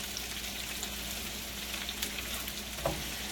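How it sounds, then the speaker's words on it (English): Southern country-fried potatoes and onions crisping in a hot pan give off a close, continuous sizzle and crackle with a brief louder spatter near the end, no voices. "taters and onions there, they're getting fried up crispy"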